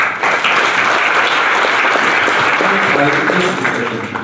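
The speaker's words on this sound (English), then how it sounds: "A round of applause for him, please" Loud, sustained applause from a conference audience at a Hindu media panel session, a dense crowd of clapping hands with some voices mixed in.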